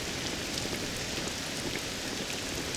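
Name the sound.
rain in Dragon Quest VII Reimagined video game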